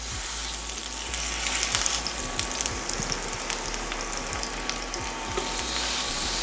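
Onions sizzle hard in a pan for a homemade burger, a dense, loud, continuous frying hiss with small crackles and pops and no talking.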